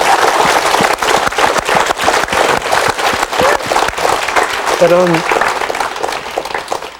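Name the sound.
audience applause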